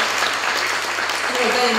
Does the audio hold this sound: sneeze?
no